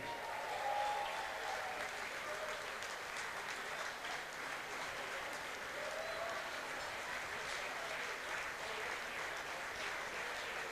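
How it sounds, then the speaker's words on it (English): At a Diwali 2019 community celebration, a crowd gives Mr. Kishore Samtani a standing ovation. Sustained, even applause from many hands carries on without a break, heard from within the hall. "can I please ask each and every one of you present here today to give this gentleman a standing ovation"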